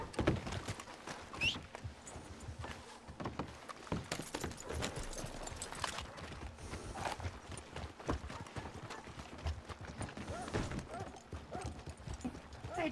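A horse clip-clops along in irregular runs of hoof strikes on a hard surface, fairly faint and distant, with occasional voices and other background noise mixed in.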